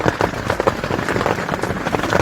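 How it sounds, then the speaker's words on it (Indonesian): Heavy rain falls on a camping tent at a mountain post on Ciremai, a dense, steady patter close by, with no talk over it. "karena hujan deras di luar."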